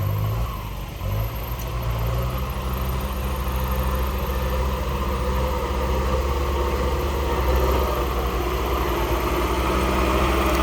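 A heavy tractor engine rumbles steadily at low pitch, running continuously without pause in soft, muddy soil, close and loud.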